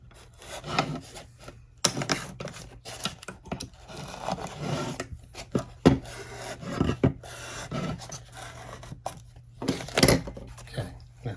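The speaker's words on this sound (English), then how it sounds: "Just run around it with the knife." A knife cuts around the plastic rain guard on the door of a 2006 Chevrolet Silverado, making close, intermittent scraping and rasping strokes with sharp ticks between them, and no talk.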